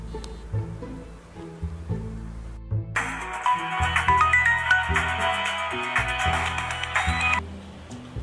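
A telephone rings steadily for several seconds during an outgoing call, a bright repeating tone layered over soft background music.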